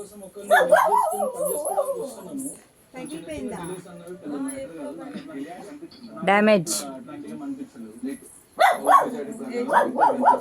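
A dog barks and whimpers in short bursts near a home kitchen, mixed in with close, steady conversation.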